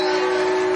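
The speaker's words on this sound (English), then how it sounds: "Cue the conductor here of that train whistle" A train whistle blown at a high school football game gives a loud, sustained steady blast, close and alone.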